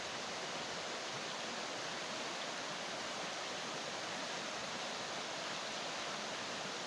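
Floodwater churns in a continuous, loud broadband rush of waves without a break, and no voices are heard.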